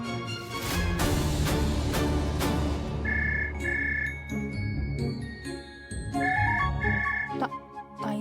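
A phone rings with a repeated chiming ringtone, loud and close, over a musical background. The tones come in short paired bursts. No one talks.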